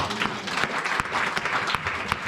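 A church congregation claps together at a service, a dense burst of applause with uneven individual claps standing out, filling the short stretch without any talk.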